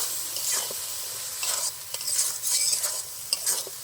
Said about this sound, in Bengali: ভালো করে সব মশলাগুলো আবার ভালো করে কষিয়ে নেব।